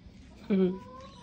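Pet cat giving a single short, clear meow, close and fairly loud over quiet room noise.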